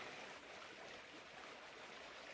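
Stream water at a trail crossing on the Appalachian Trail: a steady, broad rushing hiss of flowing water, constant and fairly soft, with no talk.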